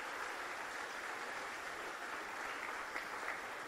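Church congregation clapping hands during a Spanish-language worship service: a steady, dense wash of applause, fairly soft and continuous throughout, with no voices over it.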